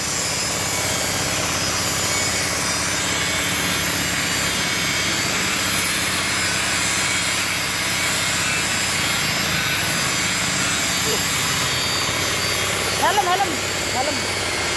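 A DIY sandblaster built from a used LPG gas tank runs with a loud, continuous hissing blast of air and grit, heard close and steady throughout, with faint voices in the background.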